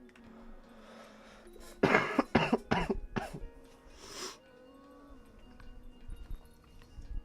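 A person coughs in a quick cluster of harsh bursts, followed by a throat clear, close and fairly loud against a quiet room.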